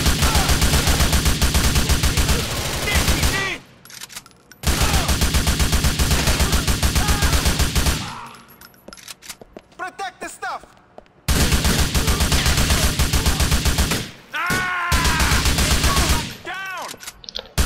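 Gunfire in the video game GTA IV, loud bursts of rapid shots in several long volleys separated by short lulls, with someone talking in the quieter gaps.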